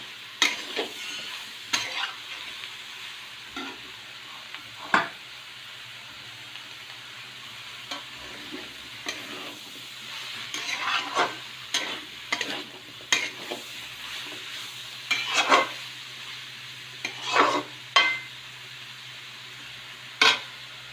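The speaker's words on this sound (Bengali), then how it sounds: "নাড়িয়ে চাড়িয়ে একটু মাখ মাখা করে নেব মশলাটা পুরো লাগিয়ে নেবো" Masala spices are stirred into food frying in a pan, with a soft, continuous sizzle broken by irregular scraping strokes and occasional sharper clatters of a utensil against the pan.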